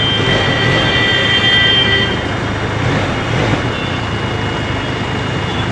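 A Benelli TRK 502 motorcycle pulls hard from second gear, its engine droning loudly and steadily close by, with strong wind rush over the whole stretch.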